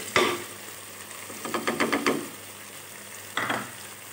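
Spices being stirred into fried tomatoes in a pan for daal mash, heard as a sharp scrape at the start, a quick run of scraping strokes in the middle and one more scrape near the end over a faint sizzle.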